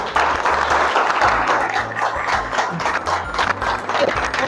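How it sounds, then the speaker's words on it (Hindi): Students in a Hindi-medium high school classroom applaud newly arrived teachers at the launch of a digital smart class: a dense, continuous patter of many hands over a low steady hum, with faint voices mixed in. "इनके लिए खड़े हो गए ताली बजाओ।"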